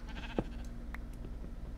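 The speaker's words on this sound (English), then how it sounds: "Yes, I hear you, sheep." A sheep bleating in the Minecraft video game, one short faint bleat heard over a steady low background, no talking.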